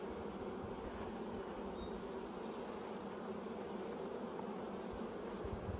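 Honey bees hum in a steady, even drone around stacked hive boxes topped with honey supers, close and continuous with no voices.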